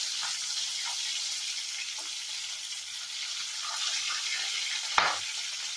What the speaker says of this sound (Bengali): মাছটা উল্টিয়ে দিই, নাহলে আবার ঝরে যাবে।